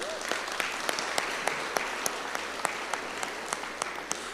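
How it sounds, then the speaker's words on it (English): Audience applause at a competition qualifier, a steady burst of many hands clapping at moderate distance for several seconds, with no talk over it. "So give yourself a round of applause."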